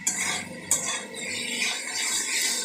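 A spiced mixture of potato and koi fish is sautéed and stirred in a pan, with a utensil scraping and clinking against the metal in short strokes over a soft, steady sizzle.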